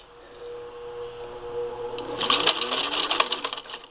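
A Singer 15-91 sewing machine fitted with an antique automatic zigzagger hums softly, then picks up into a busier, rattling stitching run in the second half, close and moderately loud.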